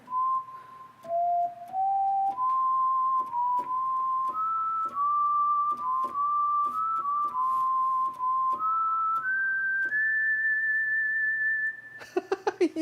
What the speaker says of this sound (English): Oh, because it's a whistle.